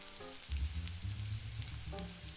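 Pureed San Marzano tomatoes hit a hot pan for pasta amatriciana with pancetta, setting off a steady, close sizzle and frying hiss that swells and carries on through the clip.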